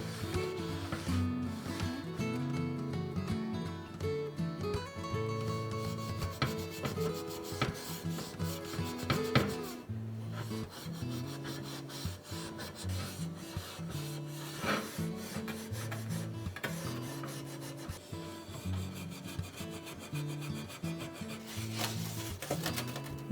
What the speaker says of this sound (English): use some steel wool to scrub a couple little rusty and rough patches